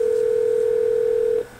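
A steady telephone dial tone in a Roblox game, loud and unbroken for over a second before cutting off into quiet.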